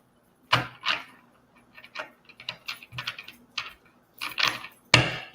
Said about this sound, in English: I'm shuffling up my decks and stuff.